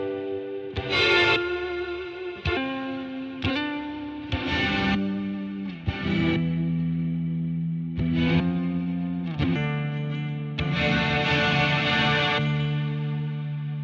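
An effects unit sounds in gated bursts driven by a dynamics control voltage, giving distorted, chorused tones that cut on and off abruptly in a stuttering rhythm, loud and alone with no talking.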